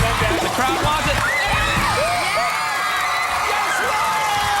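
A Brainsurge game show studio crowd cheers loudly, with whoops and high excited yells rising over a continuous roar, and voices mixed into the noise.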